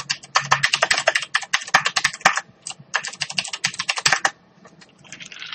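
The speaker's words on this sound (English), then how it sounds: "If you can hear my keyboard, that's because it's loud" A loud computer keyboard clacking in rapid bursts of typing with brief pauses, close to the mic, before tapering off near the end.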